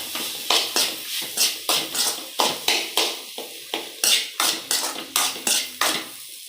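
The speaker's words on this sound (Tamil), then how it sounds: "தட்டி வச்ச ஏலக்காவை போட்டு நல்லா மிக்ஸ் பண்ணிக்கிட வேண்டியதான்." A spoon mixes crushed cardamom into a coconut filling for sago (javvarisi) kolukkattai, scraping and knocking against a metal vessel in a quick, regular run of close strokes, with no speech.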